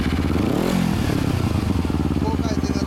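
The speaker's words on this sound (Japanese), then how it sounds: "エンジン音聞かせてもらえますか？" A 2008 Kawasaki Ninja 250R fitted with a Nojima exhaust runs close by, its engine revving up and then settling into a throbbing idle, with a person's voice heard over it.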